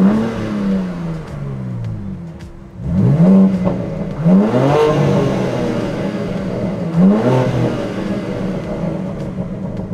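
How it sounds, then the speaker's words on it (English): Twin-turbo 3-liter straight-six in a BMW M3 Competition Touring, with induction noise from a Venturi intake: a loud engine drone rising in pitch through several revving pulls, each sweeping up and settling, with no talk. "I'll let you guys hear the induction noise that I've been hearing while driving this car."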